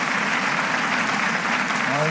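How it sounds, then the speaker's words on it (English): An audience at a peace rally gives a round of applause for Mr. Jim Rogers; the clapping is dense and steady and runs throughout. "Let us give another round of applause to Mr. Jim Rogers."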